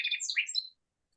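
Song sparrow singing from a treetop: one short, bright burst of chirps and trills close by, lasting under a second, followed by silence.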